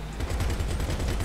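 A vehicle-mounted gun in GTA V Online fires a rapid, continuous burst of loud, evenly spaced shots with no pause across the short stretch.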